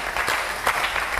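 A church congregation claps during a worship service, a short burst of scattered, crisp hand claps at moderate volume with a few sharper peaks, and no voices over it.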